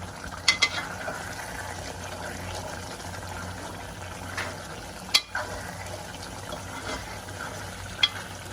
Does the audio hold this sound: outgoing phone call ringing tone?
no